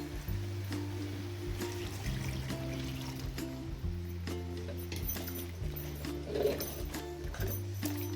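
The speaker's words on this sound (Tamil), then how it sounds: "நம்ம எடுத்து வச்சிருக்க கொள்ளு தண்ணியை சேர்த்துறேன்" Horse gram cooking water poured into a pot of tamarind fish curry, a soft trickling fill heard faintly under a steady low hum, with a brief louder splash near the end.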